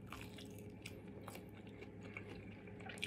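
Close, quiet chewing with crunchy bites of fried chicken that is no longer fully crispy, soft irregular crunches and wet mouth sounds, no talking.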